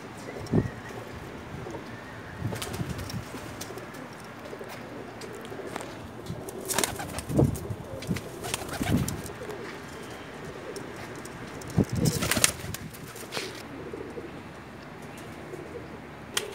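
A pair of Teddy pigeons, a Zeera Teddy hen and a number-24 cock, coo repeatedly and flap their wings now and then, heard close against faint background noise.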